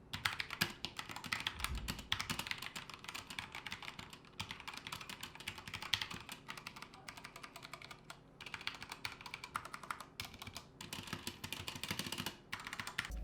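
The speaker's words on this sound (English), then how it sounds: "This couldn't be a proper showcase of a keyboard without a sound test." Someone types steadily on a mechanical computer keyboard at a home office desk for about thirteen seconds. Dense, rapid key clacks come close and clear with brief pauses, and no one talks.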